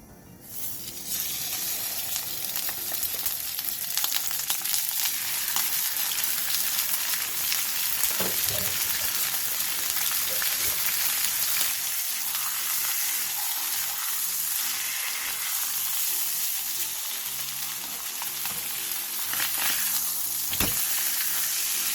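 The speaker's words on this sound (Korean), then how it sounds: "팬에 참기름 2스푼을 두른 뒤 병어를 올려 센 불에서 앞뒤로 노릇노릇하게" Pomfret fish frying over high heat in a pan with sesame oil, giving a steady loud sizzle and crackle with occasional sharper pops throughout.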